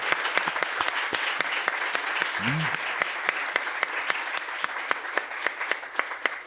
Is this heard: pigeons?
no